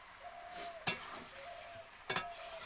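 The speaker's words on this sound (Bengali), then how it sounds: "আমাদের মাংস তরকারি ফুটতিছে" A meat curry bubbles in a pot, a soft continuous simmering hiss with a faint tone, broken by two sharp metallic clanks of a stirring spoon against the pot.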